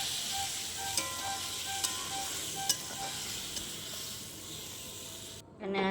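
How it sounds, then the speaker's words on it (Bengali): Soybean chunks sizzle and fry steadily in a pan, a constant close hiss broken by a few sharp pops and light clicks of stirring, then the frying briefly drops away near the end. "আমাদের সোয়াবিনটা ভালো করে ভেজে কষিয়ে নিচ্ছি।"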